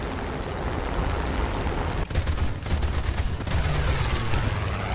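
Cannons on a He-112 B1/U2 fighter fire in War Thunder in dense, rapid bursts of booming shots over a steady engine roar, with a short pause before firing resumes, loud and close.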